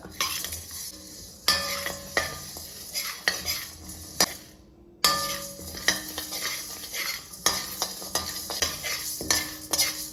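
Urad dal dry-roasted in a hot iron kadai, stirred with a metal spoon: repeated scraping and clinking strokes over a faint sizzle, close and clear, with a brief pause midway and no talk.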